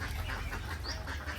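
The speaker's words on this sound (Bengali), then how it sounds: "হাঁসগুলো এই যে পুকুর পাড় থেকে ওপারে যাচ্ছে।" Ducks at a pond give a few soft quacks over a steady low background rumble, with the calls fairly faint and partly buried.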